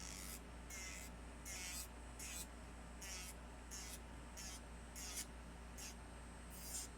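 A Saviland 40000 RPM electric nail drill working on a nail, a faint steady whirring hum with repeated short hissing grinding strokes in a regular rhythm, no talk.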